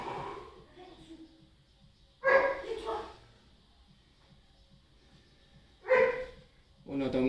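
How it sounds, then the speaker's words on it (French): A dog barks a few times at moderate distance, short sharp bursts separated by quiet stretches, with faint breathing and room sound between. "On entend mon chien."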